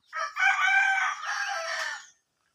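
A rooster crows loudly and nearby at a small farm, one long drawn-out call, with no other sounds around it.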